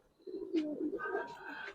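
Coloured game pigeons cooing close by, a low throaty coo with a few rising and falling pulses, with some lighter chirpy bird sounds later.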